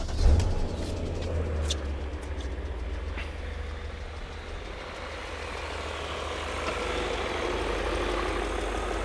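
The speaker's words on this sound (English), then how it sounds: "that tick that you can hear, that's the hydraulic lifters" A V8 engine in a BMW E39 M5 idles steadily and close by, a continuous low rumble with fine ticking from worn hydraulic lifters running through it; a few brief sharp sounds occur early on.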